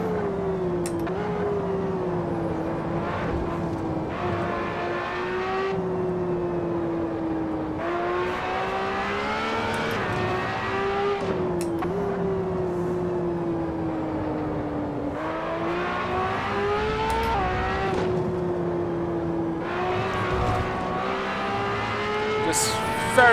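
A race car in the Assetto Corsa driving game accelerates hard through long gear pulls, its engine whine climbing in pitch, dropping at each shift and climbing again, loud and continuous throughout.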